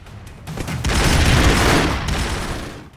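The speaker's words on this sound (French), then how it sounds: "elle est bien tombée cette grenade" A grenade blast and a burst of gunfire from the video game Broforce make a loud, dense rumbling roar that swells over about a second and a half, then slowly fades out.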